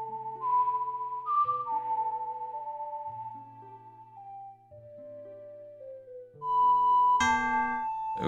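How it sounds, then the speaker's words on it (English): A clear melodic whistle from a character in Ocarina of Time traces a slow song of sustained, stepping notes. It is followed by a brighter game chime near the end. "She's gonna whistle it, huh?"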